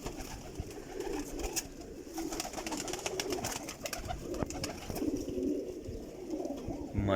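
Sialkoti pigeons of the Ustad Dilawar Khan line coo steadily and close by, their soft throaty calls overlapping continuously in a busy loft.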